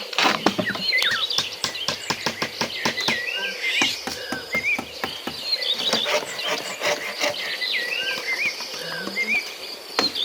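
Bamboo poles knock and clatter in quick irregular bursts as a shelter wall is built in a forest, with sharp woody taps and rubbing close by and birds chirping faintly behind.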